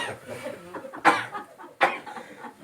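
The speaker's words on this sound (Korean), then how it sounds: "콜록거리고 있어." A person coughs twice in short, harsh bursts about a second apart, with softer breathy murmuring in between, heard close and indoors.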